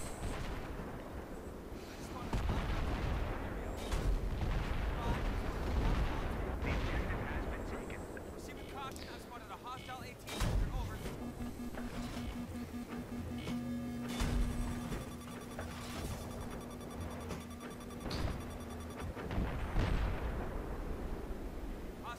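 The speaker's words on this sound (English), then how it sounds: "So there we're getting hit by the long-range rocket fire." Rocket artillery fire strikes around the player in Battlefield 3's Armored Kill expansion, loud repeated booming blasts with rumbling impacts over a dense battle mix, and a steady mechanical drone enters midway.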